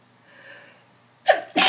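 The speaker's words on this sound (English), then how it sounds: "usually don't sneeze that much" A soft breathy intake builds up, then one loud, sharp sneeze bursts out, followed right after by another forceful burst of breath.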